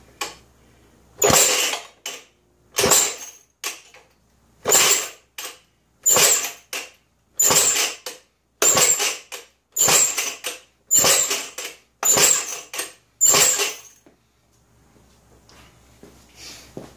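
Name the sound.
cold-starting attempt on a 1932 Maytag hit-and-miss engine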